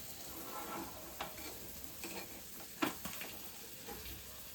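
Sardines fry in a little oil in a pan for a Kerala fish fry, a soft, steady sizzle with occasional light pops and scrapes, faint and close, with no one talking.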